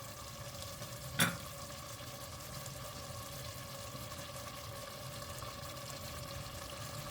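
Beef sauté with diced tomatoes simmers under a closed lid, giving a steady, even sizzle and bubbling that runs throughout. A single brief clink sounds near the start, and no one speaks.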